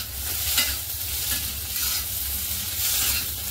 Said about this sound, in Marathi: टोमॅटो सुद्धा आपण मऊ होईपर्यंत याच्यात चांगले फ्राय करून घ्यायचे